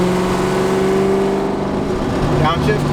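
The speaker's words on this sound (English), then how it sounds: "I get to downshift and you hear the exhaust really loud" A car's exhaust roars loudly and steadily as the driver downshifts, heard from inside the cabin with a brief voice near the end.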